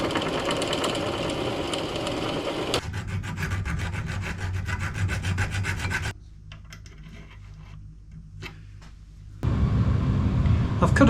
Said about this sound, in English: Now I'm going to cut some holes for the slot, just crudely for now, while everything's nice and square